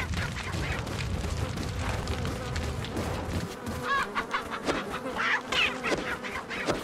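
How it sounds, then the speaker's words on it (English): Chickens cluck repeatedly in Resident Evil HD, several short clucking bursts over a busy game background, moderately loud, with no talking. "We can also kill these chickens."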